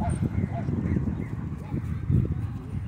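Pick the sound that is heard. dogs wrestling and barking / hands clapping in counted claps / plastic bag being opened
dogs wrestling and barking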